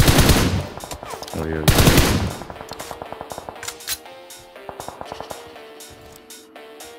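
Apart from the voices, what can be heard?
gunfire in video game PUBG Mobile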